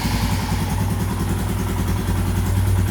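A Royal Enfield Himalayan motorcycle's single-cylinder engine runs close by at a steady, throbbing idle with a low, even thump that barely changes for the whole stretch.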